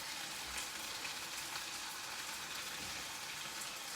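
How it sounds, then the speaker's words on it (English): Velveted chicken stir-fries with peppers and tomatoes in a hot pan, producing a steady, dense sizzle close up that continues without pause and with no voices. "it'll start that frying process"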